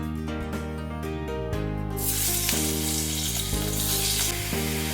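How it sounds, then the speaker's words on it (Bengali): Paneer cubes frying in about a spoonful of oil in a wok, a steady close sizzle that grows louder and denser partway through, heard alone over faint background music. "পনিরগুলোকে একটু অল্প সামান্য তেল দিয়ে হালকা করে একটু ভেজে নিচ্ছি কড়ায় এক চামচের মতো তেল দিয়ে"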